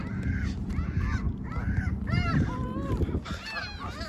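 Geese honking in a city park setting, a series of loud nasal honks in irregular bursts close by, over a busy background rumble.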